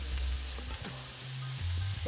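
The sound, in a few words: carrots added to cooking pot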